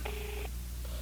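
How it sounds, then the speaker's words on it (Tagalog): A cellphone rings with a short electronic tone burst followed by a softer second tone, faint over steady low background hum. "Agringan ti cellphone na."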